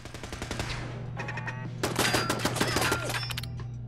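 Automatic turret fire in the video game Fallout 4, a steady stream of rapid shots that grows denser and louder partway through, with a constant low hum underneath and no talking.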